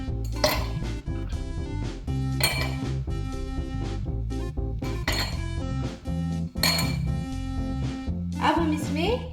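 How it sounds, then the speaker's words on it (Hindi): Ice cubes dropped into a glass while preparing a drink, several bright clinks and rattles at intervals over a steady musical background. "सबसे पहले हम ग्लास में कुछ आइस क्यूब्स डालेंगे।"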